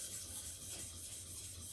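A steel chisel's back slides flat on a sharpening stone, giving a steady, soft abrasive rubbing sound up close with no talking.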